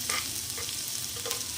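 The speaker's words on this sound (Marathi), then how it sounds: "आता आपण यामध्ये याच तेलामध्ये एक बारीक कापलेला कांदा टाकूया" Finely chopped onion sizzles steadily in hot oil for okra fry, with occasional stirring scrapes over a continuous loud crackle and no voices.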